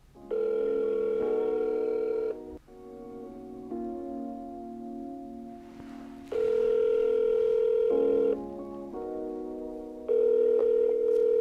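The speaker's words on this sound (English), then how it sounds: "let's make a phone call, shall we?" Electronic telephone tones alternate in steady bursts, a dial tone followed by repeated ringback pulses, clear and close with no speech.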